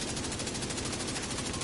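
Rapid automatic gunfire from a rifle in The Division 2 on PS5, a dense unbroken stream of shots at a steady high rate, loud and close throughout.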